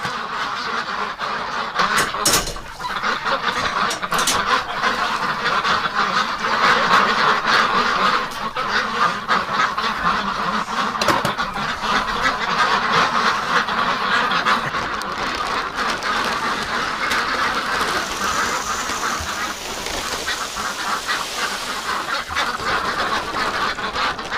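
Domestic ducks kept over winter quack and honk in a loud, steady, overlapping chorus close by, filling the whole stretch with no talk.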